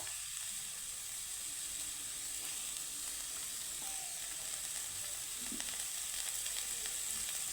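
Cooking oil heats in a pan for a prawn and watermelon rind dish, giving a soft, steady sizzling hiss with faint crackles throughout, fairly quiet and with no voices.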